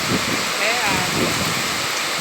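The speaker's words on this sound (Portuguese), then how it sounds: "Olha, agora chuva de vento." Wind-driven rain pours in Maceió, a dense, continuous hiss of water, close and steady, with a voice murmuring faintly under it.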